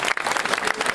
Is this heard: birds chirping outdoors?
no